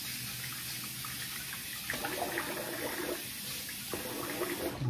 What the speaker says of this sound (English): All right, I'm gonna rinse the face here.